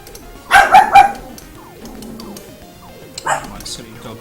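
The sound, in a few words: dog barking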